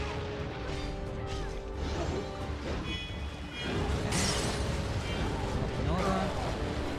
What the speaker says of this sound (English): Explosions.